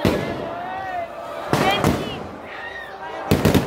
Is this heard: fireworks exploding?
yes